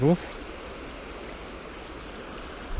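A fast-flowing river, a steady broadband rush of water heard close and continuous, following a brief low vocal sound at the very start.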